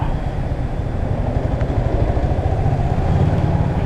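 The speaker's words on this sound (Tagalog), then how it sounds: "Ito ang mga motor." Motorcycles pass and rumble nearby at the SM Mall of Asia parking area, a dense continuous low engine drone with traffic noise, loud and steady throughout.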